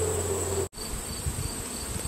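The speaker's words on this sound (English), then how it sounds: "I put a wet sheet over the hive, and indeed the bees do not know how to get in." Honey bees buzz continuously around a hive covered with a wet sheet, a close, steady droning hum with a brief dropout in the middle.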